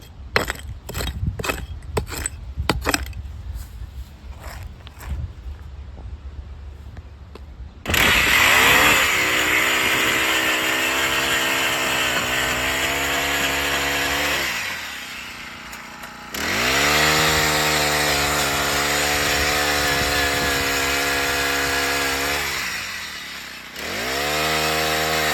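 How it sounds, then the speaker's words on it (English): A rented gas-powered earth auger drilling planting holes in dirt for a new orchard, its engine snarling loud and steady close by, easing off briefly mid-run before revving back up, after a few scattered knocks at the start. "So I won't subject you to the noisy auger for very long"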